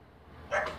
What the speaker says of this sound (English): Oh, that's not Marco. That's my uncle's dog.